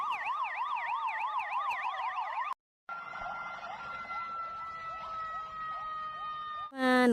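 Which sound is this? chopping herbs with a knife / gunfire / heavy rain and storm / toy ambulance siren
toy ambulance siren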